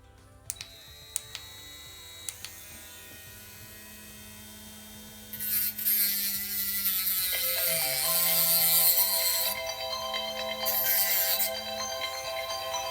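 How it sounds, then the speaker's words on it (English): Phone ringtone sounding on a workbench, a steady electronic tone with sustained melodic notes that starts after a few seconds of quiet hum and a few small clicks, then keeps ringing loudly to the end. "that's my phone making a noise"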